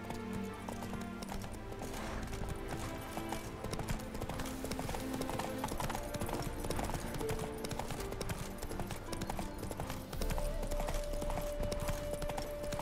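Rhythmic hoofbeats of a galloping horse in The Witcher 3: Wild Hunt on PS5 clop steadily throughout, layered with game music and ambient effects, with no speech.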